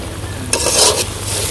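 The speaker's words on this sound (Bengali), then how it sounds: "মশলাটা আমি একটু ভালো করে কষিয়ে নেবো, তারপরে কাঁঠালগুলো দিয়ে দিই।" Salt, turmeric and dried chili stir-fried in a pan for a village-style young jackfruit curry: a short burst of loud sizzling and scraping as the spices are stirred, close up, with no talking.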